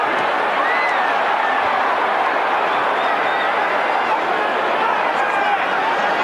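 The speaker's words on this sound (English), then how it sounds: "Listen to the crowd now, Barry. It's fascinating how they change all of a sudden." A large boxing arena crowd at the Mike Tyson vs Larry Holmes fight roars in a dense, steady wall of cheering and chatter that swells throughout, loud and continuous.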